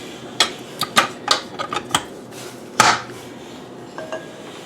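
Dough being mixed by hand from flour, egg yolks, vanilla and salt for potica gives a string of sharp clattering knocks and scrapes, irregular and close, no talking.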